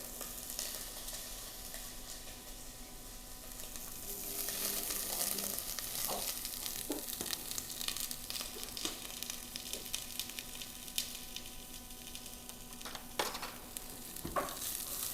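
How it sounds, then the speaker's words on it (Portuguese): A fish carcass sizzles steadily in hot olive oil for fish stock, a dense continuous frying hiss with occasional sharper pops and crackles, close and fairly loud, with no talking. "Agora, vou colocar a carcaça aqui no azeite."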